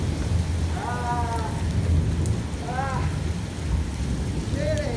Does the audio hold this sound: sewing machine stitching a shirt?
no